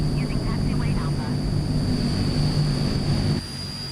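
Transall C160 turboprop taxiing in Microsoft Flight Simulator, a steady droning engine hum with a constant high whine, dropping slightly near the end, while a radio voice speaks over it.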